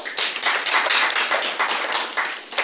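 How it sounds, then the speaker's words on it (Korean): A church congregation claps in welcome during a worship service, a close, lively round of many hands clapping steadily with no talk over it. "박수"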